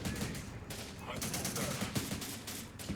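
Gunfire in the war strategy game Syrian Warfare, rapid repeated shots and bursts at moderate distance, fairly quiet, with some voices faintly under the firing.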